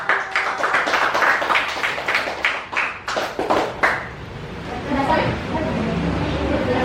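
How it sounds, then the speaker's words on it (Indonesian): Classroom clapping for a student group, a burst of hand claps with chatter for about four seconds, then fading into a murmur of voices and room noise. "Tepuk tangan untuk kelompok 1."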